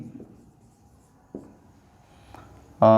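Pen or marker writing out working for linear equations in two variables during a maths lesson, a few soft scratchy strokes in near silence, ending in a sudden louder noise.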